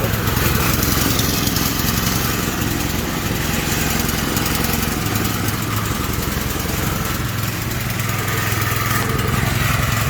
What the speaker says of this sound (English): My husband is cutting the grass, so it'll be a little bit noisy.